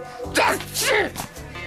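A single sharp sneeze from an animated character in the Code Lyoko series, a quick two-part burst close up over faint room tone.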